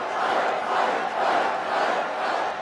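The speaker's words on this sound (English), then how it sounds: "They do the chant of USA, but then they also, the crowd, do the chant of fight" A rally crowd in a packed arena chants "fight" in unison, a dense roar of many voices swelling and dipping in a steady rhythmic pulse throughout.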